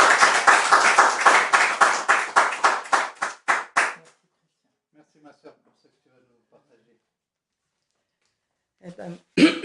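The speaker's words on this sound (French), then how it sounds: "Vous pouvez l'applaudir." A church congregation claps for a woman about to give her testimony at a celebration service, a loud burst of applause that thins into slower, scattered claps and dies out within about four seconds, followed by near silence and then a voice beginning to speak.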